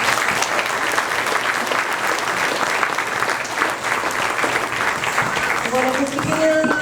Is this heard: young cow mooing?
no